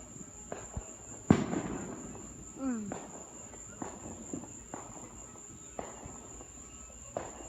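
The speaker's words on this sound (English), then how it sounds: "I'm gonna record some of the fireworks too" July 4 fireworks burst outdoors in a series of sharp, loud booms spaced a second or so apart, over a steady chorus of crickets on a summer night.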